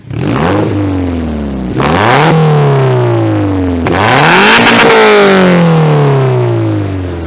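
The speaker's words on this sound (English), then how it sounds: "Do you want to give it a rev for the camera, Luke?" Engine of a Toyota MR2 revved up hard three times, each rev climbing in pitch and then falling back to idle, loud and close with no talking over it.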